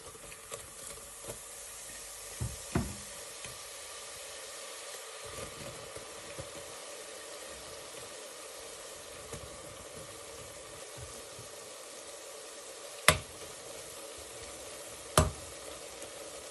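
Food fries gently in a small amount of oil, a soft, even sizzle and hiss that runs throughout, broken by a few sharp clicks and knocks, with no speech.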